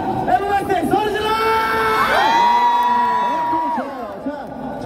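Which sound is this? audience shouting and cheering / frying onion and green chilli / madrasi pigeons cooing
audience shouting and cheering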